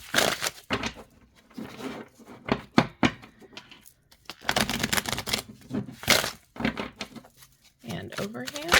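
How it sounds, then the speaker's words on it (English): Tarot card deck being shuffled by hand, a run of crisp papery riffles and snaps in irregular bursts with short pauses, close and fairly loud, mixed with light handling noises. "let's see how it shuffles"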